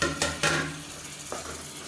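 Chili and tomatoes sautéing in hot oil in a pan, with a few soft stirring scrapes over a low sizzle, close and fairly quiet, no voices.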